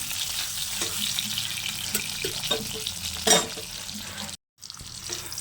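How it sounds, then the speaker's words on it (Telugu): Bitter gourds frying in oil, a dense steady sizzle with intermittent stirring scrapes and light clatters, broken by a brief total dropout near the end before the sizzle resumes. "ఒకసారి మధ్య మధ్యలో కలుపుకుంటూ ఫ్రై చేసుకోవాలి"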